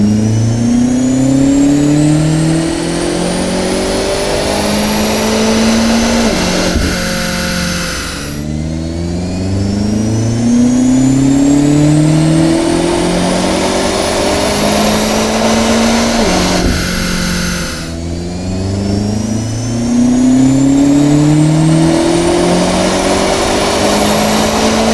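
A BMW X5 M with a 4.4-litre twin-turbo V8 roars loudly through three long, rising full-throttle pulls, each climbing steadily in pitch before cutting off and starting again.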